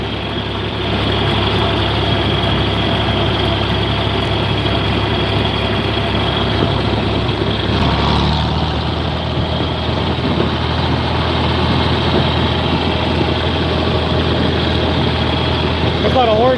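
A farm tractor engine runs at idle throughout, a continuous heavy low rumble with a brief shift midway, with a voice talking faintly under it.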